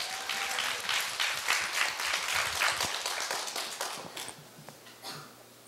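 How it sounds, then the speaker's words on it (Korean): An audience at a student speech contest at Korea University breaks into sustained applause, a dense wash of many hands clapping that swells, holds, then thins out toward the end. "큰 박수 부탁드립니다."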